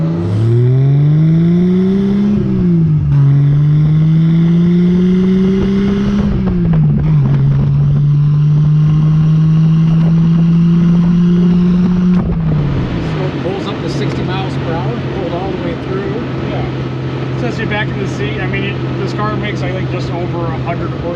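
A 1968 Triumph TR250 with a 2.5L inline-6 accelerates hard in first gear, the engine note climbing, dipping and climbing again before settling into a steady drone, loud and close throughout.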